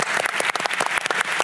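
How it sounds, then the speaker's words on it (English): An audience applauds the speakers at a panel on national AI agendas, a lively burst of close, dense clapping with distinct individual claps standing out. "You can applause the speakers, please."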